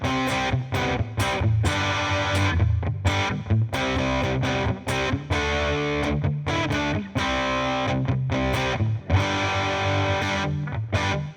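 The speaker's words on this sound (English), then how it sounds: "Want to do some 80s style riffing, a little bit of reverb and a little bit of distortion goes a long way." Electric guitar playing an 80s-style rock riff through overdrive distortion and reverb, loud and continuous with chugging rhythmic chords and brief gaps between phrases.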